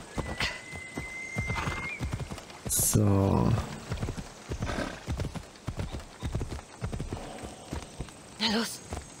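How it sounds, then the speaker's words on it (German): A horse in the video game Assassin's Creed Odyssey neighs loudly once, amid steady clip-clopping hooves and a second shorter whinny near the end, with someone talking over the game sounds. "Gut, dann hole ich mal mein Pferd."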